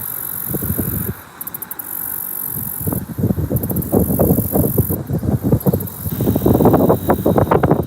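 Gusty wind buffeting outdoors at a carp fishing spot, rushing in uneven bursts that build louder toward the end, with intermittent rattling and clicking in the background.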